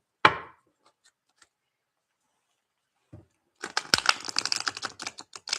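Tarot cards slap down once, then after a quiet pause are briskly shuffled in a quick run of crisp, close clicking and riffling.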